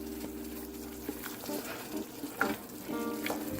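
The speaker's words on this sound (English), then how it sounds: "So again, gonna continue stirring this. Medium heat. Keep it stirring." A dark roux for gumbo stirred over medium heat, a soft continuous sizzle with intermittent scraping strokes of the spoon across the pot, fairly quiet and close.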